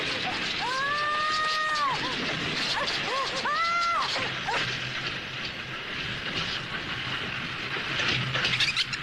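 A train running in a Tagalog-dubbed cartoon, a rumbling rail clatter and hiss beneath bright tonal cartoon effects and voices.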